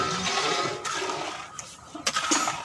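Water pours into a cooking pot of sugar for halwa syrup, a steady rushing gush that thins out into splashes and a few small knocks.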